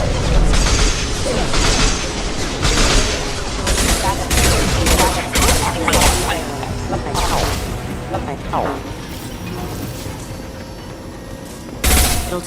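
Rapid gunfire from weapons in Mass Effect 2 rattles in dense, loud bursts throughout, mixed with mechanical clanks and impacts, with voices speaking over the combat.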